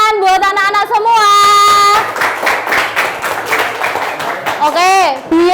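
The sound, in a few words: children clapping hands in a classroom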